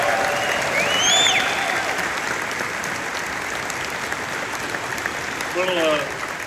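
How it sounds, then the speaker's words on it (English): At a UCF football press conference, the audience gives sustained applause for the national champion cheerleaders and the band, a dense, even round of clapping from a crowd indoors, with brief whoops rising over it. "If we could, a round of applause, our national champion cheerleaders over here and our band in the back"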